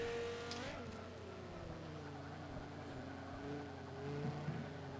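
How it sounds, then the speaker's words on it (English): A 2008 Dodge Viper's engine in Forza 5, a high rev that drops away early, then a steady droning hum with layered harmonics and slight wavering pitch, fairly quiet and continuous. "We're just gonna rev it up."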